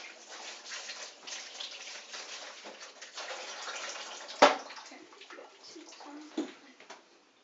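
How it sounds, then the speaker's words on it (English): Hands are washed under running tap water in a kitchen, a steady close splashing stream with brief louder splashes and a sharp clatter midway, fading at the end. "I'm going to wash my hands before I use the spices."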